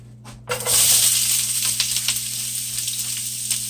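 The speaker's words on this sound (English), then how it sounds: "we're going to add our onions in here." Chopped onions hit a hot pan and sizzle loudly for a grouper and homegrown zucchini dish, a sudden burst of steady frying hiss that carries on alone without talk.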